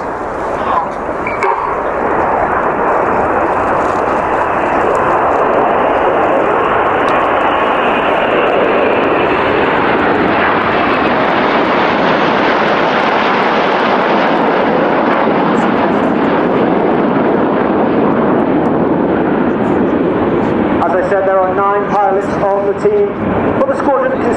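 Red Arrows Royal Air Force jets fly an aerobatic display at RIAT 2022, a loud, sustained roar that swells and sweeps past over about twenty seconds before fading, with a commentator's voice coming in near the end.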